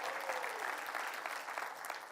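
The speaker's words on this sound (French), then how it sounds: "Est-ce qu'on peut donner une main d'acclamation?" A church congregation applauds during a sermon, a dense, continuous wash of many hands clapping together, fairly distant and even in level, with no talking.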